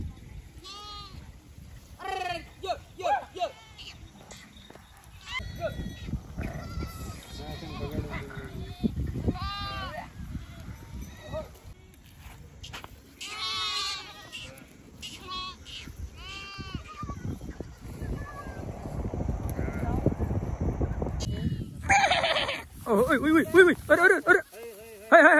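Sheep bleating repeatedly in a farm pen as the flock is herded inside, mixed with goat-like calls, heard under ongoing talk with louder bleats and movement noise toward the end.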